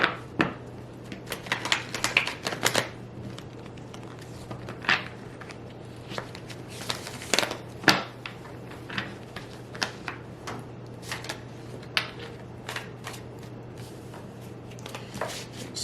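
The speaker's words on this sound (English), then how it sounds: "I'm gonna shuffle once until I feel like stopping" Tarot cards shuffled in scattered flicks and snaps, close and crisp, with a low steady hum underneath and quieter pauses between bursts.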